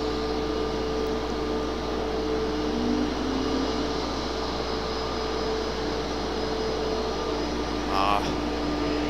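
A distant MD-11 jet airliner at a night airport gives a steady, broad engine roar with a faint tonal whine, holding at an even level throughout without clear peaks.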